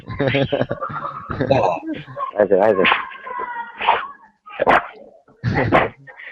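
A dog barks and yips several times in short bursts, close by, after a door buzzer, mixed in with people talking.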